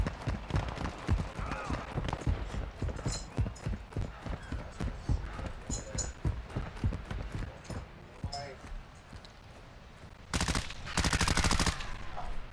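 Bursts of gunfire in Call of Duty Modern Warfare II's DMZ mode, with dense repeated shots through the first stretch and a loud rapid burst near the end, heard under ongoing voice chat.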